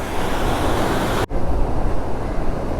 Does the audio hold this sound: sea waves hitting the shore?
yes